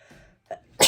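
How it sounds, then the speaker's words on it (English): A single sharp sneeze bursts out loudly at the end, preceded by a couple of soft breathy catches. "I'm gonna sneeze."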